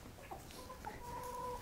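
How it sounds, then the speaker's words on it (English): Backyard chickens cluck softly over greens, grass and leaves tossed into their pen, a few short calls rising over a steady low rustle, close and moderate in level, with no talk. "the chickens were just having the best time of their lives"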